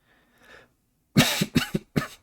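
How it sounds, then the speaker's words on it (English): A person coughs to clear the throat, with three sharp, close coughs in quick succession after a faint, brief murmur. "I cough a little to clear my throat."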